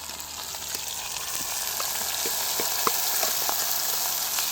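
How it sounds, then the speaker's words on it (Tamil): Dried fish frying in hot oil in a village kitchen, a steady close sizzle with scattered sharp pops and crackles throughout, no voices. "அப்படியே நீ கருவாட்டையும் பொரிச்சு எடுப்போம்."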